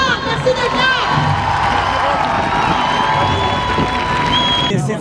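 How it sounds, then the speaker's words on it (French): A crowd at an outdoor climate rave in March 2019 claps, cheers and whoops loudly, a dense continuous roar with shouted voices rising over it. "Applaudissez-vous, c'est trop beau à voir."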